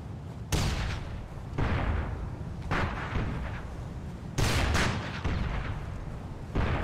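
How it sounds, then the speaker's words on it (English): Several loud, heavy blasts from the Socom Confrontation video game, grenade explosions set in a blizzard map, each bursting sharply and then rumbling away, five or six in a row over a few seconds with no talk. "It's a nice little grenade."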